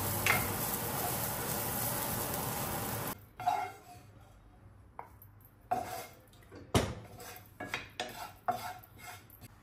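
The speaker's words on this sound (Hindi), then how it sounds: "थोड़ा सा अनियन और ग्रेटेड कोकोनट मैं यहाँ पर रोस्ट कर रही हूँ" Onion and grated coconut roasting in a pan: a steady sizzle at first, then scattered clinks and scrapes of a spoon stirring against the pan, close and moderately loud without speech.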